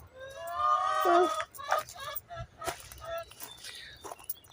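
Chickens on a garden plot, a close squawking cluck followed by scattered shorter fowl calls and rustling, with a person talking nearby.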